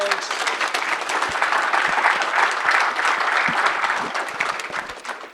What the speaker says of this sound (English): let's give this gentleman a round of applause